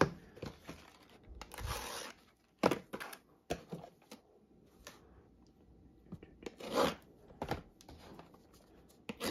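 Someone cuts open plastic packaging on toy blasters, with quiet tearing, crinkling and snipping in short irregular bursts and soft rustles between them, close by and faint.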